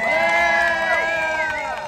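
A crowd at a National Night Out community event in Leominster, Massachusetts cheers and shouts loudly, children's high voices prominent in a sustained, close roar.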